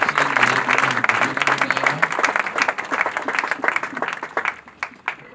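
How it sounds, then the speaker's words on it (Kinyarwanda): During a Sunday church service, a congregation claps in a sustained round of applause, loud and close, fading slightly toward the end, with a voice briefly audible at the start. "Komera Imana amashyi."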